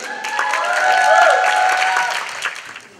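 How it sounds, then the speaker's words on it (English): A crowd at a Toronto singing contest claps in a brief, full burst of applause that swells and then thins out, with some tonal voices or music faintly threaded through. "And even if you don't like it, just clap anyways."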